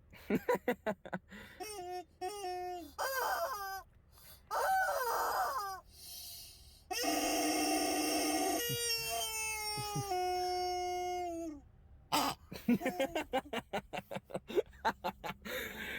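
Rubber chicken and rubber pig toys being squeezed give a run of loud, honking squawks and squeals. Some are long drawn-out wails; others are quick choppy bursts, close up with no talking.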